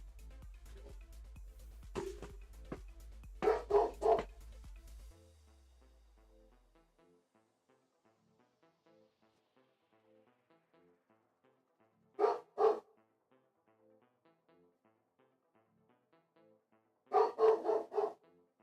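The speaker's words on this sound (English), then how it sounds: "being a big ferocious dog again" A dog barks ferociously in short bursts indoors: a cluster of sharp barks early on, then two separated volleys of double and triple barks with quiet gaps between, moderately near and without talk.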